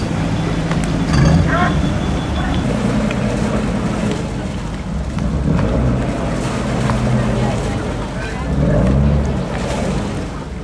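Boat motoring across the Venice lagoon toward Burano and Torcello, a steady low engine drone with rushing wind and water noise, swelling louder at moments, with voices talking over it.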